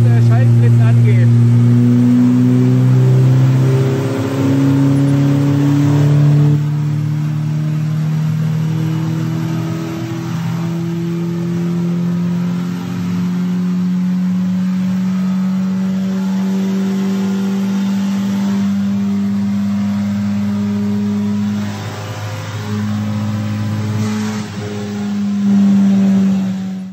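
A KTM X-BOW sports car engine revs hard on a dynamometer at 35% brake load, steadily climbing in pitch, held near and loud for a long sustained pull, with brief drops as it shifts.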